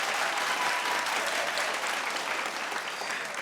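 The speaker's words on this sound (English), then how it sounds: "can we have a massive round of applause for all of our sponsors" Sustained applause from a television show audience, thanking the sponsors of a singing competition in Papua New Guinea, steady and dense throughout with no clear talk over it.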